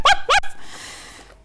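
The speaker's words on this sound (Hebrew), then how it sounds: "דודיק יצא לשחק בחצר עם הכלב שלומפר" A dog playing in a yard gives two sharp, loud barks in quick succession close by, then falls quiet with a fading tail of room noise.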